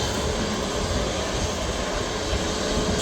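An aircraft with swept wings at Manchester Airport roars as a loud, steady, broadband engine rumble with no break.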